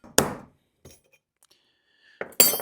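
Steel drive pin punch struck with a hammer to center-punch a mark for drilling, giving two sharp metallic clinks about two seconds apart, close and loud, with a faint tap between them.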